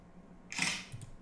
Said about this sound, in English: So basically this is a sound of camera shutter.